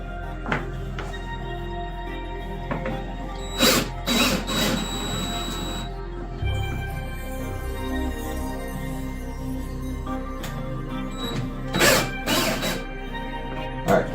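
A power tool loosens bolts, with several short bursts of whirring and rattling against a steady low hum and clanking handling noise, fairly close, no talking.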